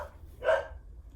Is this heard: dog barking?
yes